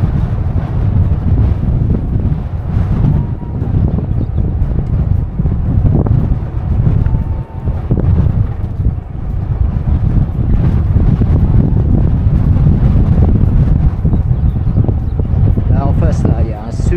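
Strong, rumbling headwind buffets the microphone continuously while cycling along the Loire, gusting louder and softer throughout, with faint background noise and no clear voice.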